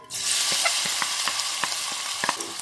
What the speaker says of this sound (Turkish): Ya kızdı soğan ekleyelim.